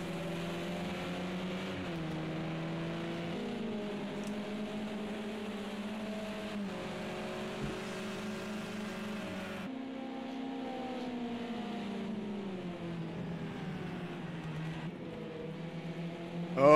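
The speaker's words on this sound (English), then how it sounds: "Oh, the BMWs are getting close. It's going to be a battle of the Bimmers." Touring car engines, including BMWs, in a Project CARS 2 race at Sonoma: a steady, loud multi-car drone with shifting pitch from revs and gear changes, continuous throughout with no talk.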